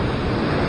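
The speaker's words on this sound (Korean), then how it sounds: "자, 파도가 많이 치죠." Sea waves break and wash continuously against a rocky shore at a fishing spot, a loud, dense roar of surf mixed with wind buffeting the microphone.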